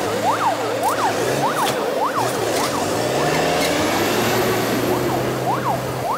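Fire engines pull out for a planned fire drill with sirens wailing, a loud rising-and-falling siren cycling repeatedly over rumbling truck engines, close by and continuous throughout.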